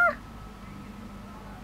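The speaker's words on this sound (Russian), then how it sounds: "Ну это египетская кошка настоящая." An Egyptian cat gives a single short, clear meow at the very start, followed by quiet room tone.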